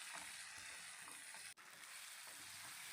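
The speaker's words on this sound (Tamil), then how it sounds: "இப்போது தக்காளி நல்லா மசிகிற அளவுக்கு நல்லா வதங்கி வரணும்." Onions and tomatoes sauté in a pan with a steady, hissing sizzle, faint and close, broken once by a brief dip partway through.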